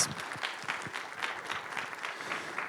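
Audience applause fills a business conference hall, a steady patter of many hands clapping at moderate distance, continuous for a few seconds.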